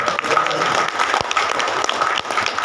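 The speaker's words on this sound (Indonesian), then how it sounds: "Kasih tepuk tangan buat mereka bertiga." An audience at a motivational cooperative talk claps for three people, a short burst of mixed clapping with a few sharp individual claps standing out, voices faintly mingled beneath.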